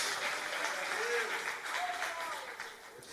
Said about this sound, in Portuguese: Glorifica o nome do Senhor Jesus com as suas palmas nessa noite.